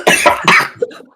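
A person coughs two or three times in quick succession, loud and close, the last one shorter and fading into a breathy throat clear.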